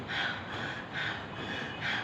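Heavy, rhythmic breathing with three strong breaths about every 0.8 seconds, close and fairly quiet, with no talking.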